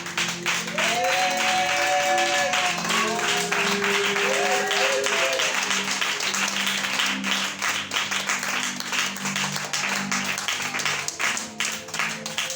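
A church congregation applauds and cheers for Jesus, steady loud clapping from many hands filling the room throughout, with voices and shouts mixed in.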